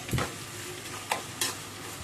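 Carrots fry in a pan for a pulao and are stirred, giving a low steady sizzle broken by a few quick scraping strokes close by; no voices.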